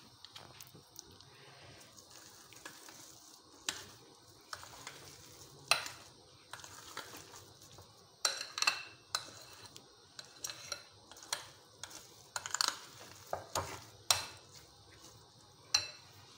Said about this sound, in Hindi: फिर मैं निकाल के इसको मिक्स कर लूँगी।